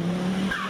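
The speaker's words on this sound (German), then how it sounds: "Heute schallt das markante Zwitschern des Pikes Peak Audi durch die Eifel." The 690 PS Audi S1 Pikes Peak rally car at the Eifel Rallye Festival 2015 lets out a brief, loud chirp over its engine note, then a quick rising squeal.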